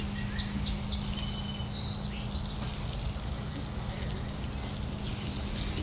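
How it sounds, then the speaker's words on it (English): Water poured over a newly planted bonsai tree, a continuous dense splashing and trickling close by with no break, faint bird chirps in the background. "Here I go with the water."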